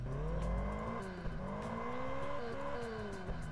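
A car engine in the video game Test Drive Unlimited Platinum, heard from the interior view: a steady idling hum with a few rising and falling revs, fairly quiet and alone.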